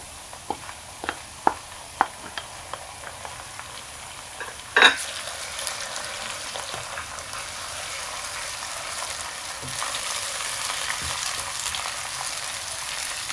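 Tomato fries in a pan with a low, steady sizzle. A few light taps and stirring clinks sound over it, and one sharper clatter comes near the five-second mark.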